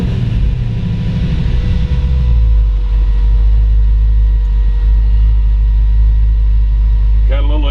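A 1928 Dodge Brothers 3W Coupe engine on a test drive: a loud, steady low rumble and hum from inside the car, with a faint tonal whine over it and a brief rattle near the end.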